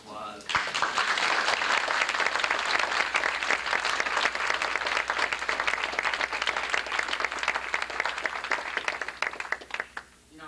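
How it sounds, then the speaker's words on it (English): Audience at an SDS reunion applauds steadily after a sudden start, a dense, fairly loud wash of hand claps lasting several seconds before dropping off abruptly at the end. "she deserves a round of applause"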